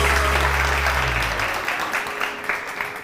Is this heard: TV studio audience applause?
yes